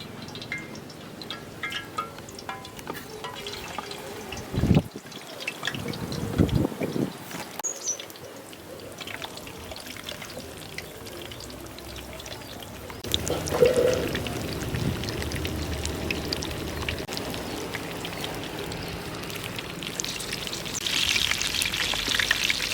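Fish marinated in masala fries in hot oil with a soft, steady sizzle. A few louder splashes and crackles come as pieces are added and moved.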